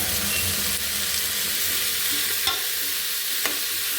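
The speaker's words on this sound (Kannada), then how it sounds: "ಇದನ್ನು ಒಂದು ಎರಡು ನಿಮಿಷ ಚೆನ್ನಾಗಿ ಎಣ್ಣೆಯಲ್ಲಿ ಫ್ರೈ ಮಾಡಬೇಕು" Methi (fenugreek) greens with chillies and garlic fry in oil in a pan over medium-low heat, giving a constant close sizzle with occasional stirring scrapes.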